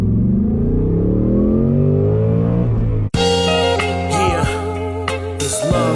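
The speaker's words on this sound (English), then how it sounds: "today we're finally going to do the first drive in my S650 Mustang GT" A Race Red Ford Mustang GT S650 pulls away up close, its engine note climbing steadily as it accelerates for about three seconds before loud music abruptly takes over.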